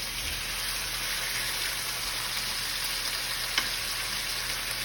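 Vegetables frying in a hot pan give off a steady, even sizzle, a close hiss that stays constant throughout with no talking over it.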